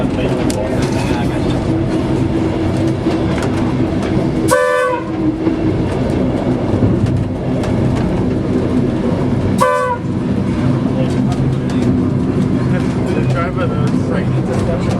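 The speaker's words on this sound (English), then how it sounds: "That one, yeah, the train" A train rumbles past with a steady clatter of wheels, its horn sounding twice in short blasts; voices talk over the noise.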